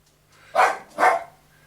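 A dog gives two sharp, loud barks in quick succession, close by, with a faint steady hum underneath.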